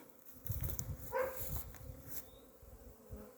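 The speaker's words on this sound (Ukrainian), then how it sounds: "Так літають в повітрі. Багато бджоли." Honeybees hum and buzz steadily close by around their hives, a busy swarm drone with occasional louder passes near the microphone.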